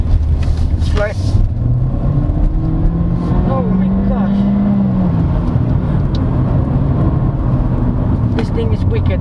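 A 2022 Honda Civic S Turbo with a CVT is floored from inside the cabin, its engine note rising in a long droning sweep under road and wind noise, with a person talking over it.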